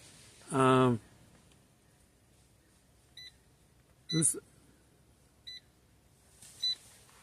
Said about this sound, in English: He's standing or sitting on something making a beep.